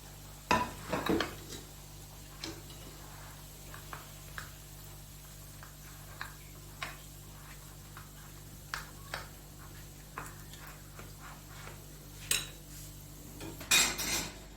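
Flour paste with a pinch of salt is mixed in a small bowl, bringing quiet clinks and taps of a spoon against the bowl scattered through the clip, faint and close, with a few louder clatters near the end.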